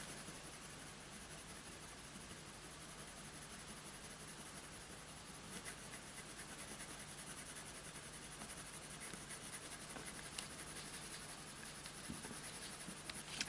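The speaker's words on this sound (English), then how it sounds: "every time this pencil passes over an area, so up, down, up, down" Coloured pencil strokes scratch steadily across Clairefontaine Pastelmat paper in a soft, continuous, close rasp, growing slightly busier toward the end with no voices.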